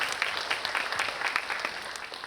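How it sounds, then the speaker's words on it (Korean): Residents at a neighborhood redevelopment briefing clap for three city council members, a short burst of steady crowd applause with no talking over it. "우리 주민 여러분들께서 다시 한번 큰 박수 부탁드리겠습니다"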